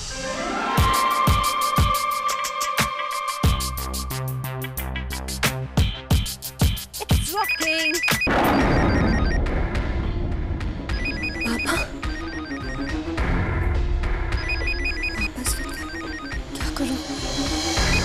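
A telephone rings loudly and alone, first as a rapid repeating electronic trill, then as a denser electronic ringtone with a busy backing tune that continues without a break to the end.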